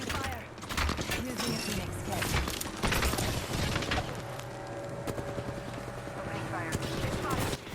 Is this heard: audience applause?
no